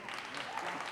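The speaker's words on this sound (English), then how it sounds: "You can do better at the applause, please." An audience clapping at an on-stage interview event, a brief, fairly faint burst of dense applause.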